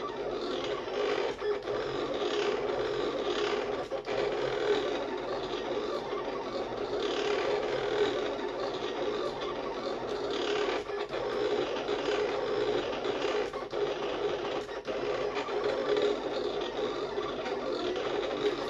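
A Silhouette Cameo 4 cutting machine runs through a cut, giving a steady, loud mechanical whir with faint ratcheting movements that continue without pause, close by and with no talk.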